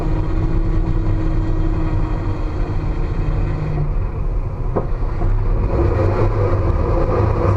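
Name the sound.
car engine while drifting on a track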